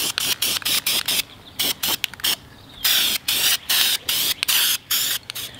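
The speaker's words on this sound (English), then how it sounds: "we're gonna come back in 10 minutes and spray down a second coat" Short aerosol bursts apply a second coat of red paint to a brake caliper, coming as a rapid series of close, loud hissing puffs separated by brief pauses, followed by a few slightly longer sprays.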